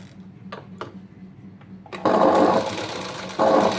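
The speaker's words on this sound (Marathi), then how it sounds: "या साईडनी पण शिलाई तशीच मारून घ्यायची आपल्याला" Small taps and clicks give way to two loud, close bursts of a sewing machine stitching a sleeve, the motor whirring steadily and pausing briefly between runs.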